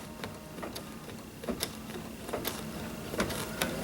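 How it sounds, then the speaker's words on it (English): A Baby Lock sewing machine stitching a quilt, a steady quiet mechanical whir with light regular ticks, heard alone at close range. "lower your presser foot, start the machine."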